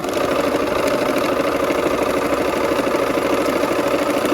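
A sewing machine runs continuously while stitching quilt blocks together with a quarter-inch seam allowance, a close, even mechanical hum with a fine rapid pulse throughout.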